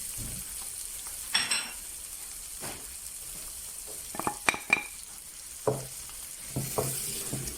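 Braising spice, garlic and crushed chilies sizzle and fry in hot oil for a Durban-style crab curry, a steady close crackle with occasional stirring scrapes of a spoon against the pot.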